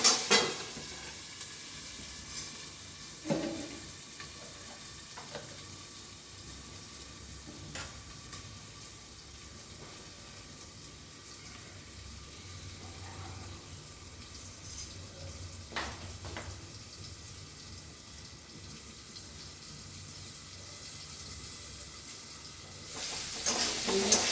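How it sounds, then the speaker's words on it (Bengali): Food fries quietly in a covered pan, a soft continuous sizzle with occasional sharp ticks and lid or utensil clicks, fairly faint and steady throughout with no voices. "এইভাবে ঢাকা দিয়ে দিয়ে ভাজলে পরে ভাজাটা তাড়াতাড়ি হয়ে যাবে"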